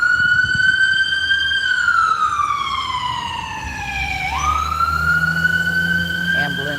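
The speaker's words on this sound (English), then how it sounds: "it's the sirens." A loud, close emergency vehicle siren wails, sliding slowly down in pitch and then sweeping back up, joined near the end by a faster yelping siren, with traffic rumbling underneath.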